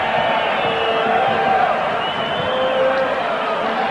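Roar of a crowd of nearly 50,000 at a 1990 Brazil versus Bulgaria football friendly in Campinas, a steady dense wash of distant voices and cheering filling the stadium with no break.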